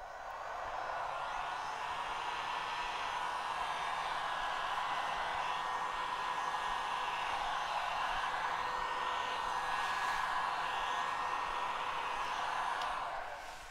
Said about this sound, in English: We'll use the heat gun.